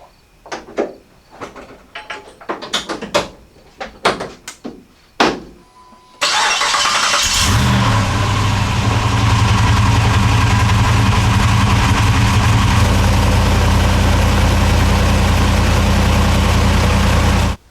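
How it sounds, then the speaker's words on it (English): Hemi-swapped Jeep Wrangler JK/JKU being started after a cable install: a few seconds of faint clicks and clatter, then the V8 cranks and fires loudly and settles into a steady, rumbling idle that runs to the end. "Then we'll go and try and start the Jeep,"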